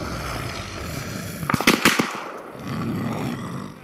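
A quick burst of several loud gunshot cracks in the military shooter game Arma 3, set against steady battlefield rumble.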